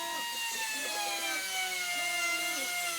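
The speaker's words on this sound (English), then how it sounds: "just screw the dash back on" A power driver whirs steadily while screws go back into the dash of a Prowler, a continuous gliding motor whine at close range.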